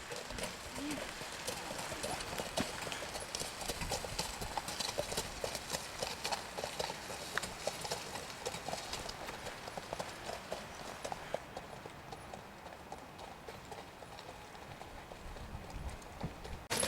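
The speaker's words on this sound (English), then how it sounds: "And here we are, with that horse and cart." A horse pulling a cart clip-clops steadily on a New Forest country track, with hooves close and rhythmic throughout and people talking alongside.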